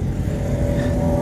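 A car passes on the road with a steady engine rumble that stays fairly loud and close throughout, with no voices.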